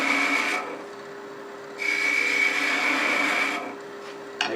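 A wooden cattail spins on a wood lathe while a tool cuts it, making a steady whirring hum with a constant tone. A bright, rasping cut comes twice and is broken by a quieter spell of plain motor drone.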